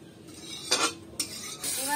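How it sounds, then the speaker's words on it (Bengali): A bay leaf, three dried red chillies and black cumin seeds crackling in hot oil for tempering, soft sizzle broken by two or three sharp scraping stirs of a spoon against the pan. "একটু নাড়াচাড়া করে ভেজে নেব ফোড়নটা"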